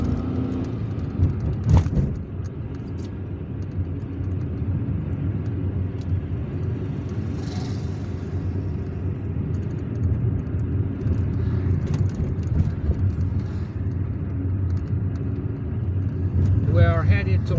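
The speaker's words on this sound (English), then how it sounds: "We're still driving on the Bachdjarah road." A car drives along the Bachdjarah road through the streets of Algiers, with a steady engine and road rumble and occasional passing traffic noise. A person speaks over it.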